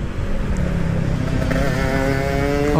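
Yamaha RX King two-stroke motorcycle engine idling and revving up close, a steady loud throb with rising, pulsing harmonics as the throttle is blipped, no talk over it.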